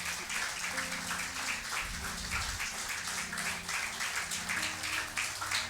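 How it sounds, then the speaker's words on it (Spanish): Congregation applause during a Spanish-language church sermon, a steady wash of clapping held at an even level for several seconds with faint murmurs underneath. "Dele un aplauso al Rey"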